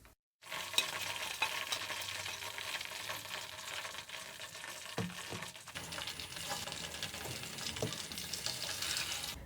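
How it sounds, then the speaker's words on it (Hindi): Chicken pieces frying in hot oil for a crispy fried chicken, a dense steady sizzle and crackle with occasional stirring clatters, close and unbroken, with no talking. "इसी तरह हम ये दूसरा जो चिकन रह गया है इसको भी फ्राई कर लेंगे"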